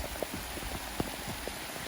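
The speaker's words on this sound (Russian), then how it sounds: "Дождь усиливается." Steady rain falling on a mountain trail during a solo hike, a dense continuous patter with scattered heavier drops striking close by, no voices.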